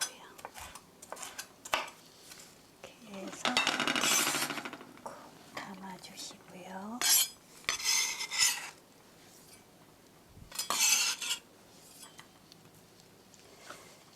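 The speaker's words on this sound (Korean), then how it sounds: "칼은 뒤에서 앞으로 살짝 살짝 밀어주면 돼요" Knife strokes slicing vegetables on a cutting board for a pork rice bowl, a few gentle scraping pushes in bursts with pauses between, close and fairly quiet.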